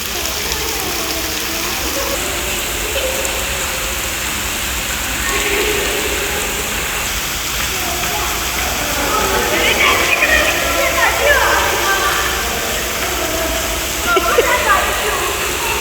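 Steady artificial rain spray hisses throughout inside a rain room in Sharjah, with people talking over it and a few brighter splashing bursts near the end.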